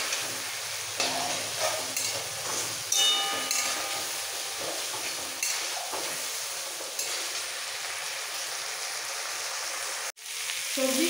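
Papaya and pointed gourd with spices and chili paste being sautéed in a pan for rohu fish curry, a close, steady sizzle with a spatula stirring and scraping, briefly dipping near the end.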